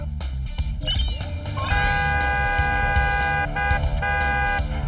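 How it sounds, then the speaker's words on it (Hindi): A loud, sustained car horn blares with steady tones, dense low rumble underneath, and no talking. "इस हॉर्न की आवाज से भी मॉडल पर कोई असर नहीं हुआ।"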